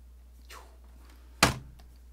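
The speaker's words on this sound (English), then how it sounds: "that was my keyboard slamming" A computer keyboard slams down onto a desk with one sharp, loud thud at close range, preceded by a faint rustle, with no talking.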